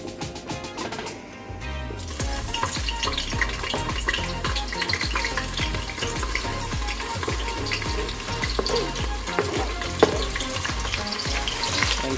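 Onions frying in a pot give a loud, dense sizzle and crackle that carries on steadily, joined by the scrape and clatter of stirring, with no one talking.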